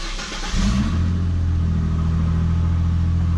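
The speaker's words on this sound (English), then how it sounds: "There's that high idle." A Ford Mustang engine with a cracked exhaust manifold starts up and settles into a loud, steady high idle. It is a close, even rumble with a faint tick barely apparent beneath it.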